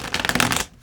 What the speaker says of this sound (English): I think it's called the rifle shuffle.